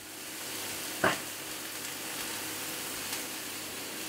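Minced meat sizzles in a small frying pan, a soft, even crackle of frying that carries on steadily, with one brief clatter of a utensil.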